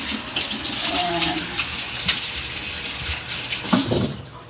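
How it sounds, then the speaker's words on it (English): Hands are washed under a running kitchen tap, a steady close rush of water splashing into the sink with brief gurgles and shifts as the hands move through the stream. "Let me wash my hand."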